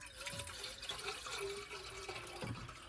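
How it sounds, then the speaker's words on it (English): Water poured into a kettle for cooking chicken and onion rice, a steady liquid splash with a faintly rising pitch as the kettle fills, close and moderately loud, with no talking. "I'm going to pour 3 cups of water"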